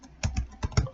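Keys on a computer keyboard clatter as commands are entered on a penetration-testing system, four or five quick, close, crisp strokes in a brief burst with no speech.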